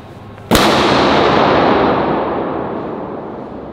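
A large balloon popped inside a car, one sharp loud bang followed by a long echoing decay.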